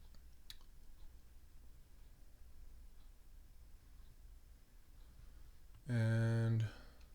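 Computer mouse clicking during a family history search, one faint click near the start, then a short louder burst of clicking and ticking near the end over a quiet room.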